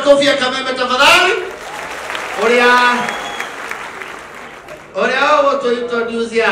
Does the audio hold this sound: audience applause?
yes